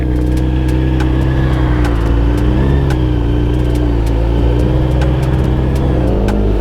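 Kawasaki ZX12R motorcycle in first gear, its engine droning loud and close with gradual rises and falls in revs and a steady rough mechanical roar throughout, with no voices.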